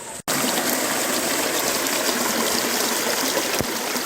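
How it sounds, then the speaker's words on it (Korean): Cool water in a mountain valley stream at a recreational forest flows continuously, a steady close rushing and trickling that fills the whole stretch after a brief dropout at the start. "자연휴양림 계곡에 시원한 물이 절절절절 흐르고요."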